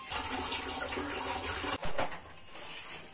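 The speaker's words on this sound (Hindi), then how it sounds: "अब चलते हैं फ्रेंड्स बर्तन धोती हूँ।" Tap water runs steadily into a sink while dishes are washed, with a brief clatter partway through, close and moderately quiet.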